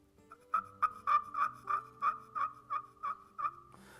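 A custom-made turkey call imitates a hen turkey's soft yelp, about a dozen evenly spaced, nasal yelping notes played close and clear, fading off at the end, with no talking.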